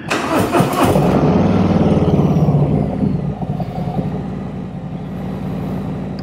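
A 2021 Harley-Davidson Road King motorcycle engine cranks loudly up close, catches and settles into a deep, lumpy idle that fades slightly toward the end.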